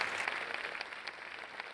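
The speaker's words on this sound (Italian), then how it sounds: "applauso ai nostri giurati in prima fila" Audience applause for jury members seated in the front row at a junior song contest show in Sanremo, a brief, faint patter of clapping heard from some distance.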